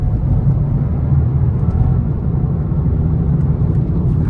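A Volkswagen Polo R-Line's engine pulls under acceleration, a steady, loud low drone and road rumble heard from inside the car, with no clear rise in pitch.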